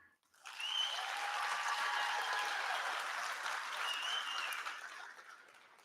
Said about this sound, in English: Please applaud their achievements as they stand to be recognized.